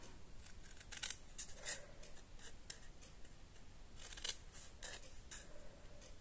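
Scissors snip through paper while making a Christmas tree decoration with Stampin' Up craft supplies, giving a few short crisp cuts spread across a quiet background.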